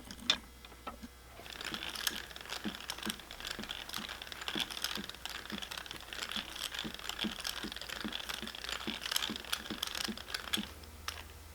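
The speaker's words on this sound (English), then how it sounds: "It's actually spooling up pretty evenly, even though the oscillation's pretty, really fast." A homemade fishing reel winds light 5-pound fluorocarbon ice-fishing line onto its spool, a quiet run of rapid, regular ratcheting clicks that goes on for several seconds, close up and with no voices.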